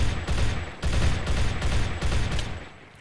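AK rifle fire from a Minecraft gun mod on Counter-Strike-style maps, a loud sustained rattle of rapid automatic shots in three long bursts with short gaps, fading out at the end with no talk.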